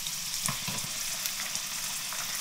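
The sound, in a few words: broccoli frying in a pan with garlic and olive oil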